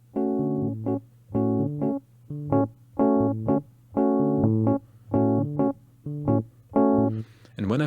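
A piano repeats a short two-bar loop, a steady rhythmic pattern of chords over a sustained low note, played cleanly and close with brief gaps between phrases and no talking.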